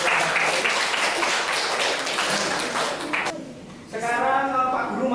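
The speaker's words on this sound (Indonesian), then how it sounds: "Kasih tepuk tangan dulu." Classroom applause from a group of students, a dense burst of clapping that runs for about three seconds before fading, followed by a voice speaking.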